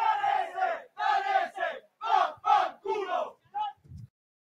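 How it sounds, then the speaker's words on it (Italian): A crowd of fans at a Quintana jousting event roars in rhythmic chanting bursts, about seven or eight loud surges in a row, before dropping off into silence. "Tifoseria, tutte le tifoserie ce l'abbiamo addosso, quindi sentiremo tutto"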